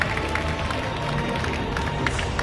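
Applause for the Sédhiou team at a youth school competition finale, a dense, steady crowd clapping with some cheering, sustained and fairly loud throughout.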